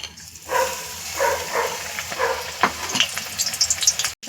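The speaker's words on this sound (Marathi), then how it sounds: "आता आपण हे डीप फ्राय करून घेऊया." Spinach leaves coated in besan batter sizzling as they deep fry in hot oil for palak bhaji, a steady crackling hiss with a few sharper pops, close and fairly loud with no talk.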